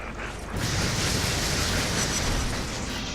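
An explosion in the video game inFAMOUS erupts about half a second in as a loud, dense roar that holds steady to the end, with no talking.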